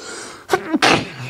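A single close sneeze indoors, a sharp sudden burst after a quiet breath-in, with a quiet room behind it.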